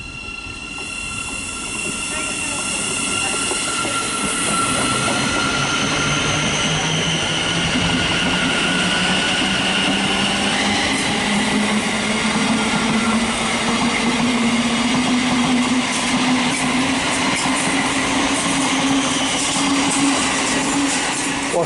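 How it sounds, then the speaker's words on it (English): A Thameslink train departs St Albans City station, its traction motors whining in a slowly rising tone as wheels rumble along the rails, growing louder and steady over about twenty seconds with broad rushing noise. "departing now is the 1111 Thameslink service from Brighton to Bedford"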